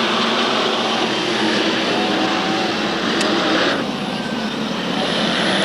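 SK Modified race cars roar around the Waterford Speedbowl oval during a 1993 feature race. The engines drone loudly and steadily, the pitch rising as the field accelerates back to speed, with a dense, unbroken wall of noise from start to finish.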